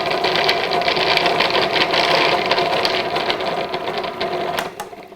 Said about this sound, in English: Lid on, and you just want to whiz this together until the sugar and butter are mixed.